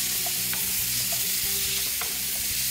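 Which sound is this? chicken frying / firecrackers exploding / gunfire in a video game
chicken frying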